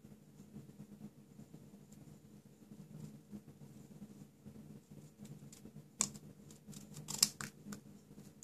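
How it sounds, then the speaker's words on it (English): A paper greeting card has its bottom edge trimmed, giving a couple of brief, sharp cutting sounds near the end after a quiet stretch of low room hum. "we're going to trim the bottom off"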